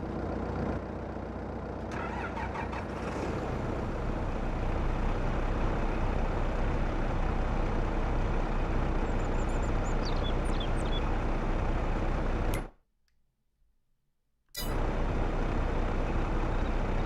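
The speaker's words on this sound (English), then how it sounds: "I want to get in my tractor." A tractor engine in Farming Simulator 22 runs as a steady, loud low rumble for about twelve seconds, then cuts out to near silence for two seconds before the same drone resumes.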